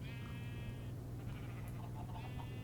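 Two Minecraft sheep bleats, one at the start and another near the end, with soft game clicks and a constant low hum between them.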